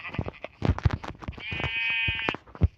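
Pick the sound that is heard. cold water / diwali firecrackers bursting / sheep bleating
sheep bleating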